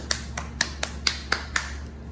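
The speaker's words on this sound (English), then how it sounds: "Sitting here clapping to myself." A single person's hands clap alone in a quiet room, seven sharp, close claps at a loose steady pace over about two seconds, with a low steady hum underneath.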